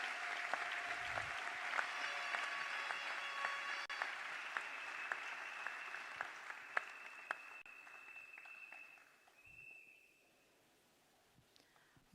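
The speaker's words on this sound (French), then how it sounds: "Est-ce qu'on peut l'applaudir," Steady applause from a crowd at a scholarship ceremony fills the first several seconds, then thins out and fades to near silence with a few scattered claps at the end.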